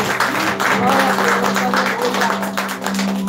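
A church congregation claps together during a service, a dense, steady wash of applause that holds at an even level throughout, with a low constant hum underneath.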